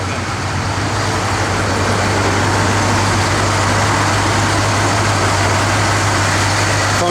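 A 1971 Chevrolet Chevelle SS with a V8 idles steadily up close, its low engine drone a constant, loud rumble that runs unbroken for the whole stretch with no voices.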